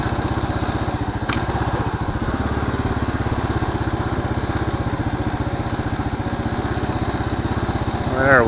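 Kawasaki KLR motorcycle engine running steadily up close, a continuous pulsing drone with a brief sharp click early on and a rising throttle rev at the very end.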